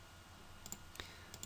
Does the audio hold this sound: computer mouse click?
yes